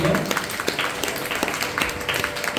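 Audience applause at a live Carnatic music concert, honouring the singer's teacher: dense, steady clapping from a crowd that carries through the whole stretch at an even level.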